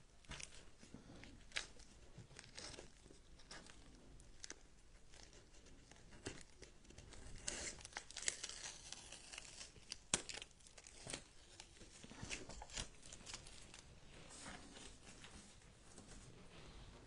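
Adhesive tape peeled and torn off a handmade sign, heard up close as a steady series of crackling rips and crinkles with sharper snaps now and then, and no voices.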